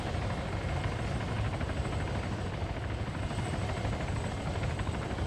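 A helicopter flies backward down an active runway, its rotor a continuous, fairly loud thrumming drone with steady broadband wash and no voices.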